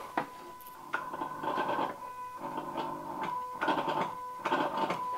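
An electronic throttle body on a Ford Anglia whines and buzzes in several short mechanical bursts with pauses between, close and moderately loud, with a steady tonal hum running through each burst.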